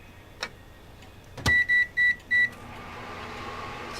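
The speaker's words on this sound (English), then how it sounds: "So there's Daniel with the microwave." Microwave oven in The Sims 3 life-simulation game finishing with four clear, evenly spaced electronic beeps, followed by a soft steady hum.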